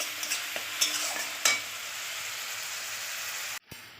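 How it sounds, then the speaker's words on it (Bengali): Grated onion and curry leaves fry in oil, a constant sizzle punctuated by a few sharp spatula scrapes against the pan before the sound cuts off abruptly. "পেঁয়াজটা একটু ভাজা ভাজা হয়ে গেছে"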